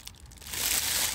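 A plastic bag crinkles up close, with a brief rustle that swells into a steady, bright crumpling.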